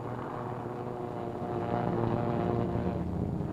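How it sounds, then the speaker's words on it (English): Steady, droning roar of B-25 bomber propeller engines circling in formation, constant and fairly loud, swelling slightly midway with a low rumbling hum throughout. "Another B-25 to join the formation circling over the task force until all the 16 planes can get into the air."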